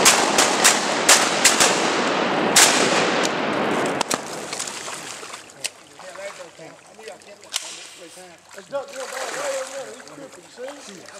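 Guns firing at a festival, a burst of sharp cracking shots close together in the first few seconds, then scattered single reports while people talk and shout nearby.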